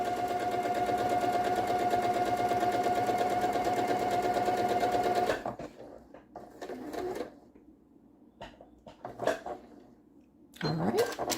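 A sewing machine runs steadily for about five seconds while stitching a quarter-inch quilt seam, then stops. Soft handling clicks and rustles follow, and there is a little nearby talk.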